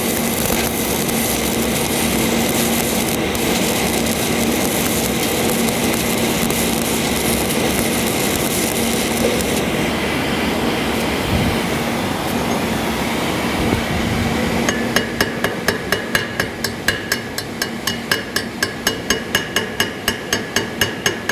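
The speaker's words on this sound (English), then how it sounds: "Real light peening, not hard. Just put small little dents on the surface." Light hammer peening on a fresh stitch weld in cast iron, the dents small and shallow: from about fifteen seconds a steady run of quick, even metallic taps sounds close by over a constant background hum, with no talk.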